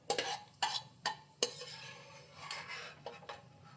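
Cashews frying in hot oil in a pan, with four sharp metal spoon strikes and scrapes against the pan at the start, then softer stirring over a quiet sizzle and a couple of later taps.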